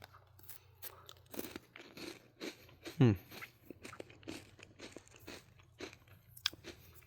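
Someone bites into a crisp St Michel Grande Galette butter cookie with one sharp crunch, then keeps chewing up close in a series of small crackling munches.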